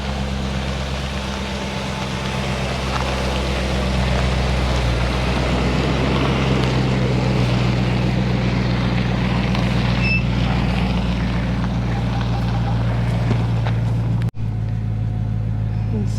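A van grinding slowly over rough boulder and scrub terrain near O'Briens Creek and the Topaz Gemfields, steady loud low engine rumble and rattling body noise throughout, with one sharp knock near the end.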